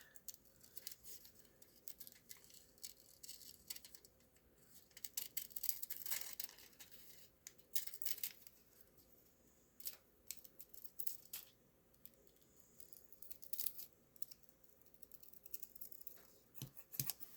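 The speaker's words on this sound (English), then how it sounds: "I'm just going to cut it around the shape of the slide." Scissors cutting a sheet of mica tile around the shape of a vintage slide: quiet, irregular snips and crisp crackles in short bursts, close by, with no voices.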